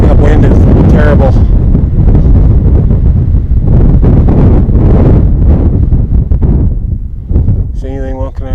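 Strong wind buffets the microphone on a mountain, a loud, constant roaring rumble throughout, with a voice speaking over it at the start and end.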